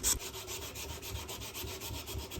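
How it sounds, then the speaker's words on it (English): Knives made from a 200-year-old horseshoe are rubbed by hand with 220 grit sandpaper, giving a close, steady rasping scrape in quick back-and-forth strokes. "I'm going to be starting at 220 grit sandpaper"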